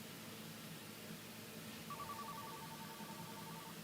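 A faint, repeating electronic tone pulses on a phone line as a call tries to connect, starting partway through and sitting under a steady hiss of line noise.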